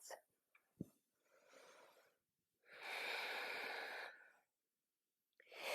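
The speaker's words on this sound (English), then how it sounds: "2 more long, slow, deep breaths" Long, slow, deep breaths, faint and close, with audible inhales and exhales separated by stretches of near silence during a yoga practice.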